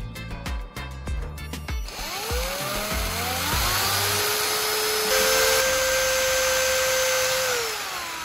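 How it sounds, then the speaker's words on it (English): A power drill whines at high speed drilling a hole through a base, rising in pitch and holding steady, after a few sharp knocks at the start. "The next step is to drill a hole so that I can pass the wire through the base."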